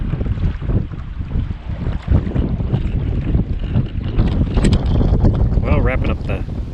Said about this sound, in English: we're just flying across the lake now. We got the wind to our back.